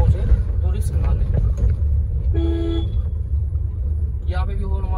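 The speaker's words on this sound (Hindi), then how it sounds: "यहाँ पे भी हॉर्न मारना जरूरी था भाई" A car horn honks in a couple of short bursts over steady low engine rumble in a narrow local street, fairly close, with faint voices and street noise around.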